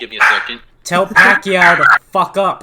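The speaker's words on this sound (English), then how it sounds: "My little dog's barking." A small dog, Mia, barks in sharp, close, high yips, a string of about five loud bursts. Someone speaks between the barks.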